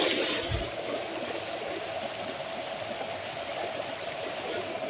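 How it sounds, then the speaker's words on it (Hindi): Zenith waterfall at Khopoli cascades in a steady, broad rushing roar, heard close and continuous throughout with no voices over it. "ये पीछे आपका भाई वाटरफॉल गिर रहा है तगड़ा के दिन को"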